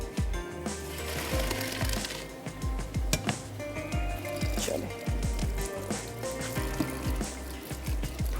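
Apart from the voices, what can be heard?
cold water poured over boiled macaroni to rinse it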